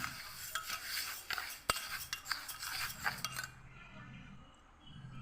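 A utensil scrapes and clinks around a bowl in quick, uneven strokes, close by, mixing in salt, then the stirring stops and a quieter background hum remains.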